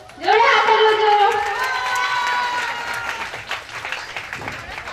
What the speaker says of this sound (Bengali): জোরে হাততালি জোরে